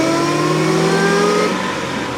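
A Corvette C6 ZR1 engine revs hard while driving through canyons, a loud sustained roar with rising and falling pitch captured up close, no talking.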